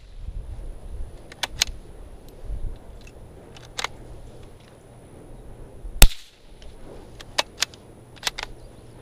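A single-shot bolt-action .22 rifle firing CCI Quiet-22 rounds, one sharp crack standing out, surrounded by faint clicks and snaps of the bolt being worked and handling noise outdoors.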